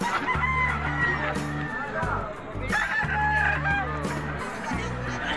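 Chickens at a livestock auction market in Padre Garcia, Batangas cluck and crow in repeated bursts, close and loud, over background crowd chatter.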